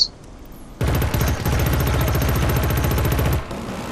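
Rapid automatic gunfire in the shooter game Killzone Shadow Fall, one loud sustained burst of evenly spaced shots lasting about two and a half seconds after a brief quiet lead-in.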